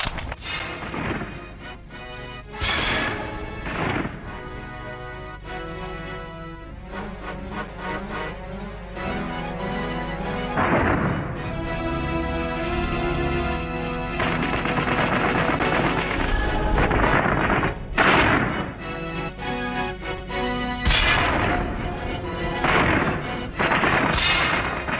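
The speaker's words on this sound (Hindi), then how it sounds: "मैं अपने हिसाब से मार्टर का फायर करवाता हूं।" Heavy battlefield gunfire and mortar blasts in a war docu-drama, a dense, continuous barrage of booming impacts and rattling shots layered with a steady rumble throughout.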